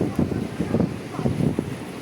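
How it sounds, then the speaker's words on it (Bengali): Strong gusts from a sudden storm after a hot day buffet the microphone as a steady, loud rushing roar with surging pulses, close and unbroken, no voices present. "প্রচুর বাতাস"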